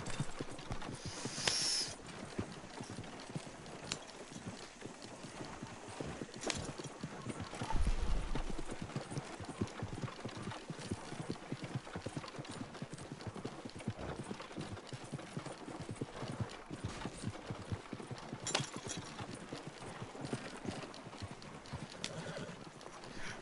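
Horse hooves clip-clop steadily while pulling a cart in Red Dead Redemption 2, a continuous rhythmic trot with an occasional neigh, fairly faint and alone.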